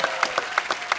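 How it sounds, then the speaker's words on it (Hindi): A television studio audience claps, heard as a brief patter of rhythmic hand claps at moderate volume with no voices over it. "जोरदार तालियां डॉक्टर साहब के लिए प्लीज।"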